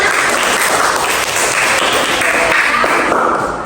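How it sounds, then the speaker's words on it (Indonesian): A classroom of students gives a steady burst of applause for a drawing, loud, continuous and close, holding evenly for a few seconds. "tepuk tangan dulu untuk gambarnya"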